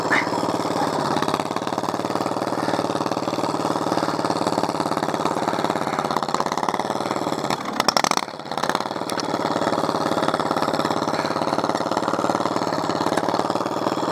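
Offroad vehicle engine labouring in low gear while climbing over a fallen tree, a loud, steady throbbing drone with a short clattering scrape and lurch midway before the engine settles back into its rumble.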